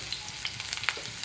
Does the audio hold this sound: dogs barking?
no